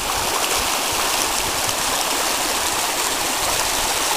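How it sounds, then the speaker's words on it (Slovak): Strong floodwater current rushes past in the flooded Lučenec area, a loud, constant roaring wash close by with no pauses and no voices. "Tu sa nám už ten prúd dosiluje trošku na tejto strane"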